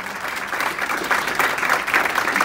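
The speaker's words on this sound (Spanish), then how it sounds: "pido un aplauso" An audience applauds Joel Quiroz, with steady, dense clapping from a crowd that holds at an even level throughout, and no voices stand out.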